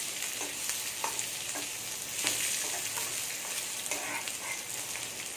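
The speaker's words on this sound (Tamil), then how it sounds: "இப்போ லாஸ்ட்டில் சின்ன வெங்காயத்தை போட்டு லேசாக வதக்கிட்டு இறக்கிடுவோம்" Small onions sauté gently in a pan over a low flame for an anchovy fish curry, a faint, even sizzle with scattered soft crackles and stirring taps, heard close and alone.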